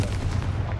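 A Confringo fire spell blasting in Hogwarts Legacy, a dense, booming burst with a rumbling low end that holds steady for under a second, loud and close, with no voices.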